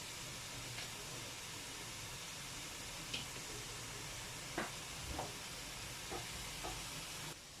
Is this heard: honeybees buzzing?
no